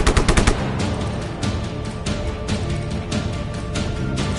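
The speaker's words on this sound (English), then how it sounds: "I'm opening fire." Machine gun fire in the video game Just Cause 3 rattles in a fast, sustained burst, loud and close, with a heavy rapid opening stutter followed by continuous firing.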